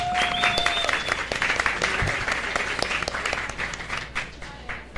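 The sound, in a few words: audience applause for a speaker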